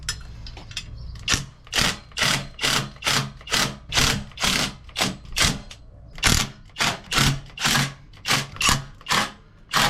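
Screws being driven with a powered driver to fit a grab rail, heard as about sixteen short, loud, evenly spaced whirring bursts close by with brief pauses between them.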